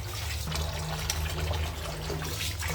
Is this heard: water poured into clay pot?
yes